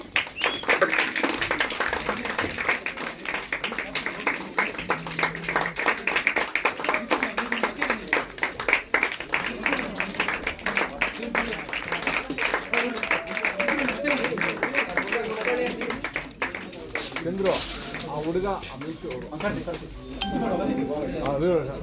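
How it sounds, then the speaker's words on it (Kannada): Loud, sustained applause from a gathered audience at a CD launch event for a reality entertainment show, dense steady clapping running throughout with voices mixed underneath. "ಜೋರಾದ ಚಪ್ಪಾಳೆ."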